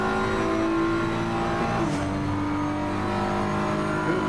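A BMW race car engine in a sim racing game at Paul Ricard holds a steady, loud, buzzing drone, dipping briefly in pitch midway as if shifting before settling again.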